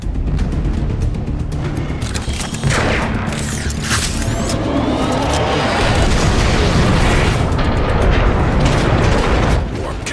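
Heavy cannon fire and explosions in the Transformers: Fall of Cybertron video game, a dense, continuous barrage of loud booms and blasts with no pauses throughout.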